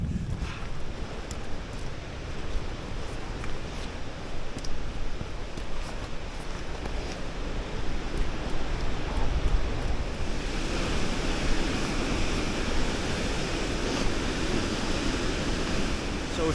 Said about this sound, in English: So we finally made it to High Force Waterfall